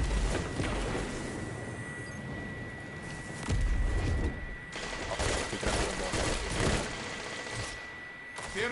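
Continuous rapid gunfire in a video game, dense bursts of shots layered over each other with a steady high electronic tone underneath.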